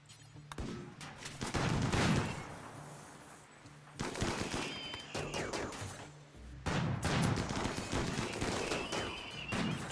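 Bursts of automatic gunfire in the colony-building video game Rimworld, rattling volleys in three clusters separated by brief pauses, fairly loud and dense, with a little talk mixed in.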